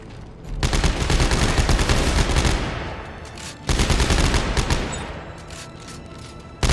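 Sustained automatic gunfire from Dead Space 3 roars in two long, loud bursts separated by a brief lull, ending with another sharp blast.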